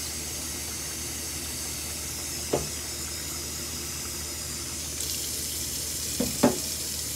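Water running steadily from a kitchen tap into a pot of potatoes, a constant broad hiss throughout with a few faint clinks near the end.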